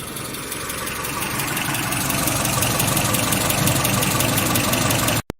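A 1995 Holden Rodeo with a 2.6 engine idles steadily and loudly up close with an even mechanical chug, then cuts off abruptly at the very end.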